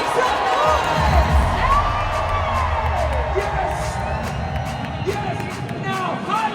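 Large arena crowd at the Disney Legends ceremony at Honda Center cheering, whooping and screaming, a dense sustained roar with scattered high shrieks and some clapping.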